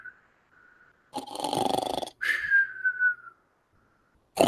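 A human voice imitates a snoring male monkey: a rasping inhaled snore followed by a whistling exhale, with faint whistles before and a short one at the end.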